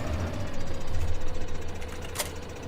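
Tractor engine idling in Farming Simulator 2015, a steady low rumble with a faint knocking pulse, holding even and fairly loud throughout, with no talk over it.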